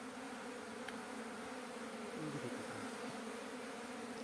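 Honeybees swarm over a honeycomb they are building, filling the air with a steady, dense drone of buzzing, close but fairly soft, with individual bees passing nearby and no speech.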